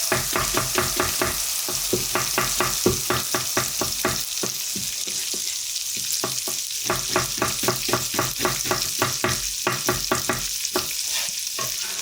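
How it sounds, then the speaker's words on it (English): Celery and diced onion fry in a pot for salmon chowder, a constant loud sizzle beneath a brisk, regular rhythm of spoon scrapes that pauses briefly midway before resuming. "We'll get some celery in there. We'll get some diced onion in there."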